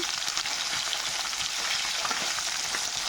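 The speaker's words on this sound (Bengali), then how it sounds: "এই মাছটা খুব পাতলা, খুব তাড়াতাড়ি ভাজা হয়ে যায়।" Thin tilapia or khoira fish frying in hot oil, a steady dense sizzle with faint stirring clicks running unbroken throughout, close and fairly loud with no voices.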